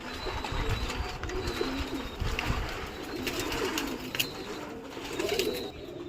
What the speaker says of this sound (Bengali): এই দেখো সব পায়রা বেরাচ্ছে